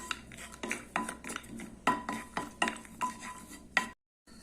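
Broken cashew nuts roasting in ghee for vermicelli milk payasam, stirred in a pan with a run of close, rhythmic metallic scrapes and clinks of a spoon against the pan over a faint sizzle, ending in abrupt silence.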